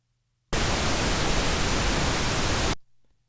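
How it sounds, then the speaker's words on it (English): A burst of steady broadband pink noise, made as sound-design material for electronic music sweeps and risers, starts abruptly, holds at an even loud level for about two seconds, then cuts off sharply into near silence. "And then let's look at the pink noise."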